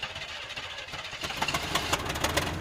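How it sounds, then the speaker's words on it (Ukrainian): An old Opel car engine sputters and coughs unevenly, rough bursts of mechanical noise building in strength over a couple of seconds, with no voices. "Старий Опель сплеснув капотом і натужно закашлявся."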